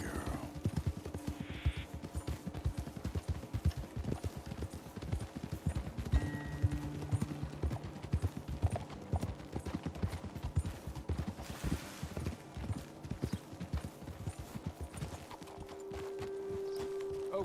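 Horse hooves clip-clopping steadily in Red Dead Redemption, a brisk, continuous rhythm of hoofbeats close by with occasional faint tones, running throughout without talk.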